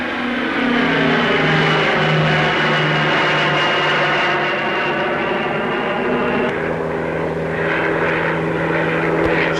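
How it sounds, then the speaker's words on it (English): A Handley Page Marathon 2 turboprop feeder aircraft flies at a 1950s Farnborough air show, its engines a loud, steady drone with a tonal whine that holds throughout and shifts slightly in pitch near the end. "Still more turboprops. This time in Handley Page Marathon 2,"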